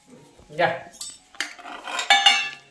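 Spoons and steel dishes clatter while misal pav is served at home, a few separate close clinks and scrapes of cutlery against plates, brief and bright.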